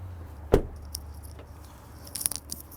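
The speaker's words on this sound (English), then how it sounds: "I hit the lock button." A 2020 Honda CR-V EX key fob lock button is pressed and the car locks: one sharp, fairly close click, then a quick cluster of faint, high, ticking clicks a moment later in a quiet setting.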